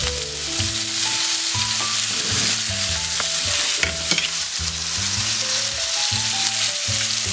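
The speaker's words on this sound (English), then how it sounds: "Oh yeah, and you hear all that sizzle." Steady, loud sizzling of steak frying in a hot pan over slightly higher than medium heat, continuous crackle throughout, with a musical tone running underneath.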